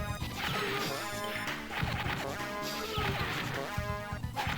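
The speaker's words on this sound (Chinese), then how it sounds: "毕竟这个空中堡垒要炸。" A flying fortress exploding in the video game 绿色兵团3: dense, continuous crashing and smashing blasts layered over game music, loud and unbroken throughout.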